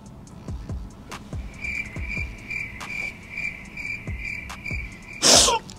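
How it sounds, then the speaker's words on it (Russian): A cricket sound effect chirps steadily in a high, even trill, close and clear over soft tapping, ending with a sudden loud noisy burst like a sneeze. "Нет, давайте без сверчков."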